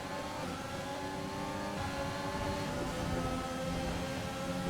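Alfa Romeo Formula 1 car racing in the game F1 2020, its engine droning loudly and steadily at high revs, with other cars' engines blending in the background throughout.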